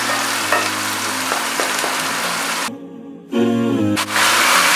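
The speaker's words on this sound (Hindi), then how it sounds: "मसाला हमारा अच्छी तरह भुन गया है" A spice masala of chili, coriander powder, garam masala and turmeric fries in oil for mutton karahi, a close, continuous sizzle with stirring. Music plays underneath, and the sizzle drops out briefly near the middle.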